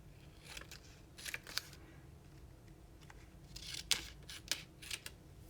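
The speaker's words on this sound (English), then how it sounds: "I'm just going to trim a little bit more of the liner off." Scissors snip away the liner of Cricut glitter heat-transfer vinyl in a series of quiet, close cuts, a few clustered together, with low room noise between them and no voices.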